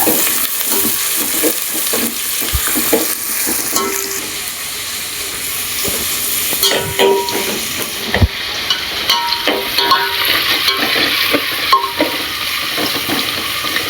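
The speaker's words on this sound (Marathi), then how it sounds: "लाल होईपर्यंत कांदा भाजायचो. नंतर लसूण टाकायची, कढीपत्ता हे सगळं टाकून द्यायचं." Onion, garlic and curry leaves sauté in hot oil for a Malvani jackfruit bhaji, with a continuous sizzle broken by sharp knocks and scraping of stirring in the pan.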